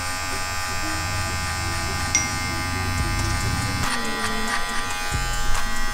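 Electric hair clippers buzz steadily and close during a haircut, a constant droning hum with brief shifts in pitch as the blades move through hair.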